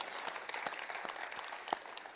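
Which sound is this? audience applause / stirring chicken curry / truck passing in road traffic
audience applause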